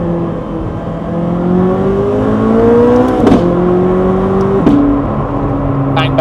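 A McLaren supercar engine heard from inside the car with the window partly open, droning loudly and climbing through the revs, then dipping at two sharp gear changes with crackles, no talking.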